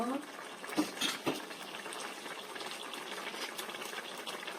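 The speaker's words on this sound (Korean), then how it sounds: "자글자글자글자글 맛있게 끓고 있지요" Quiet, continuous bubbling and sizzling of a Korean dried radish greens stew simmering over low heat, close by, with a couple of soft clinks at the start.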